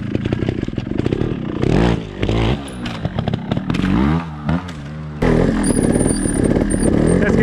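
A Sherco trials motorcycle is ridden in a practice session, its engine loud and close, revving and dropping in short bursts with clattering and scraping, with brief moments that may carry a voice.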